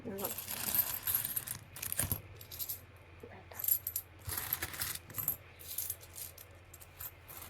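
Old collected coins, among them a World Tamil Conference commemorative coin, clink and tap against each other as they are handled, in faint, scattered metallic clicks that come in irregular bursts.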